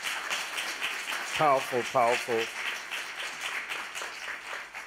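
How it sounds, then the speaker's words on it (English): A church congregation claps steadily throughout, a continuous wash of hands under a voice speaking briefly in the middle. "let's clap our hands"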